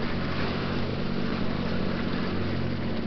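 Steady, continuous drone of a boat's single starboard engine running at about 2,000 RPM, a constant low hum with no speech.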